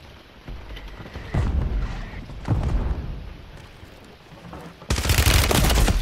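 Gunfire in the video game Warzone: several loud bursts of rapid automatic shots with heavy booming impacts, spaced a second or two apart and ending in a dense sustained volley, with no speech over it.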